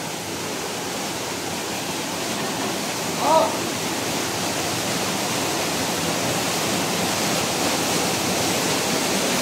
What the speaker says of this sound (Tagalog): Merong rumaragas ang tubig.